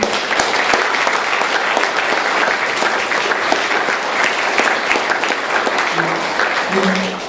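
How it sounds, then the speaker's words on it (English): Sustained loud applause from an audience thanking a seven-member panel after an environmental impact discussion, a dense even wash of clapping throughout with faint voices near the end. "A round of applause, please."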